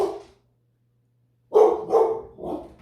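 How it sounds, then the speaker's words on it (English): Dogs bark outdoors as children walk down the street, a short burst at the start, a pause, then three loud, close barks in quick succession. "my dogs are barking and the kids walking down the street"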